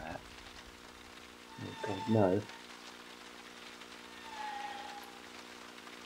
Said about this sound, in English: That's just thunder. Rain and thunder.